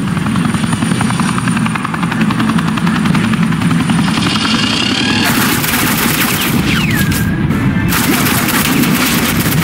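Suppressing gunfire rattles steadily through a scene from the video game Batman: The Enemy Within, layered over a heavy helicopter rotor drone, with loud continuous bursts and booms filling the whole stretch and no talking.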